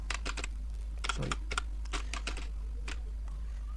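Close computer keyboard typing as Java code is entered, quick irregular bursts of key clicks with short pauses between, no talking over it.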